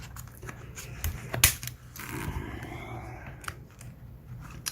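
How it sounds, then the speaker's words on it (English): Scissors cut into the packaging of a new Master Lock, giving a sharp snip partway through amid close crinkling and rustling handling noise. "I'll just use scissors for the sake of it."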